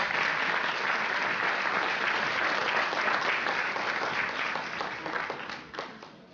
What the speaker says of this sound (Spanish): Un fuerte aplauso, doctor.